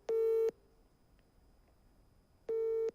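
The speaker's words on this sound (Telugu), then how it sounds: "సో ఫోన్ రింగ్ అవుతోంది." An outgoing phone call ringing, two identical ringback tones each lasting about half a second, separated by a long quiet gap, clear and alone.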